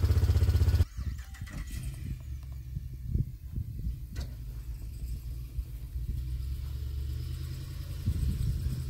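A classic restored tractor engine idles with a low rumble, then pulls away, its steady mid-pitched chug rising slightly in level toward the end.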